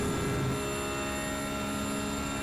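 A race car engine in a racing game at Spa-Francorchamps, a steady high-pitched drone that holds its pitch with a slight drop near the start, continuous and alone.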